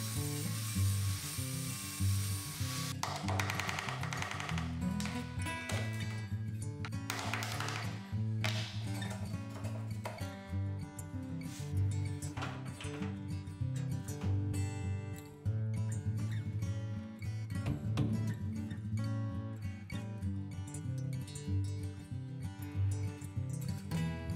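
A portable workshop machine cuts recesses into an interior door casing during an apartment renovation, running continuously and loudly at close range with steady mechanical whine and rattling, with no talking.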